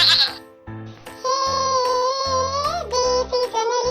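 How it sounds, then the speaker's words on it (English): A goat bleats in a long, wavering, nasal cry that rises and dips, followed by shorter repeated bleats, loud and close with no talking. "Goat says baa."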